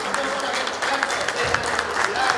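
A concert audience applauds a musician in a dense, steady burst of clapping at moderate loudness, with a few sharper individual claps and faint crowd murmur mixed in.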